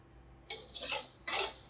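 A milk, egg and butter mixture for bread pudding is poured over bread in two short, close, wet splashing bursts separated by a pause.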